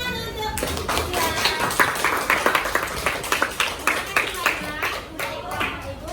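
A classroom group of students and teachers breaks into lively applause, dense rapid clapping that stays steady and close for several seconds with some voices faintly underneath.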